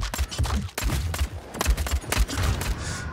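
Rapid bursts of gunfire from the vampire battle-royale game Vampire: The Masquerade – Bloodhunt, close and loud, with dense shots and brief gaps between volleys and no talk over them.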